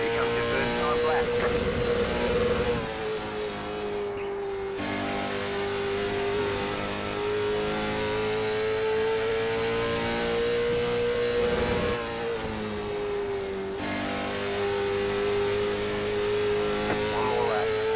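Race car engine in the sim racing game iRacing, a Cars Tour car on the Nashville Fairgrounds oval, holding a steady loud drone with a pitch that rises and dips through the lap, with brief gaps in the sound.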